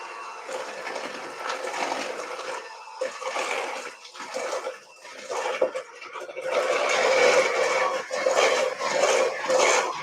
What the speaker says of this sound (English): Let's give everything a good beat.